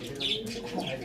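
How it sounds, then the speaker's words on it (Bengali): Pigeons released from a loft, giving soft close coos and chirps over a brief stretch with a faint hint of wingbeats. "বন্ধুরা, দেখুন একটু ছেড়ে দেখায় আপনাদেরকে এই পায়রা দুটো।"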